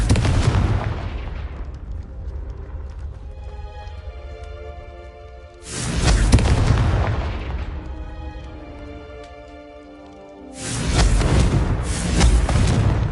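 Confringo explosive spell blasts in Hogwarts Legacy, three loud booming detonations spaced several seconds apart, each with a long ringing decay.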